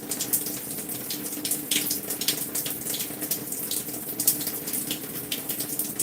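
Water runs steadily from a tap while hair conditioner is mixed, a continuous splashing stream that stays loud and even, with no voices.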